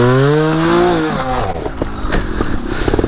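A trials motorcycle engine revs loudly up close, its pitch climbing and falling before settling into a rough, sputtering idle, with no talk over it.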